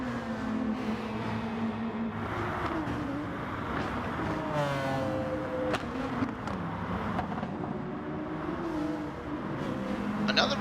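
A race car engine in Gran Turismo Sport howls continuously, pitch rising and falling through gear changes, loud and steady without talk.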